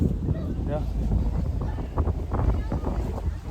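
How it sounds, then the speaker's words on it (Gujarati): Strong wind buffets the microphone with a low, rumbling roar on the deck of a RoRo ferry between Hazira and Ghogha, while a voice talks over it. "પવન બહુ આવે છે"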